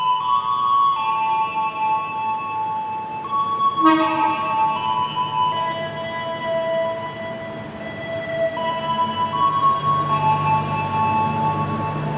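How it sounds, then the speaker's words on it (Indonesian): The Minangkabau Express airport train rolls into Minangkabau International Airport station with a sustained metallic screech and hum of wheels and brakes, a short horn-like burst partway through, loud and close. "Baru saja tiba kereta api bandara atau KA Minangkabau Express di stasiun Bandara Internasional Minangkabau"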